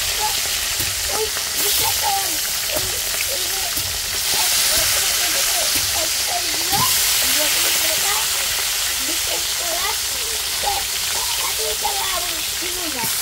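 Hilsa and air fish frying in a pan, a steady broad sizzle and hiss running throughout with small scattered pops and a stirring clatter now and then.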